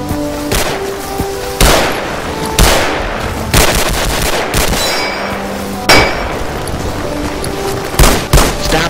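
Gunfire in the video game Resistance and Liberation: loud, close shots and metallic clangs repeat in irregular bursts, some rapid, with ringing decays between them and no talk.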